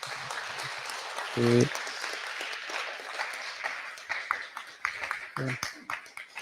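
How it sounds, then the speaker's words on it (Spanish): Audience applause for a discussion panel at a memory and resistance forum, scattered clapping that is loudest early, then thins out and becomes irregular while voices call out over it. "Bueno, pues un aplauso para la mesa."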